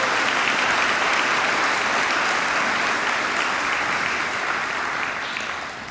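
A crowd at a senior athletic awards night claps steadily and loudly for several seconds, the applause thinning slightly as it fades toward the end.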